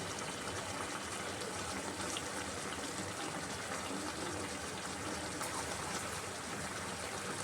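Water gushes steadily into a cooking pot for a rohu fish stew, a dense continuous pouring rush from start to finish, close and fairly even in level.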